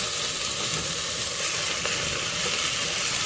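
Tomatoes sizzle loudly and steadily in a frying pan during motor home cooking in Scotland, with a dense, continuous crackle that does not let up.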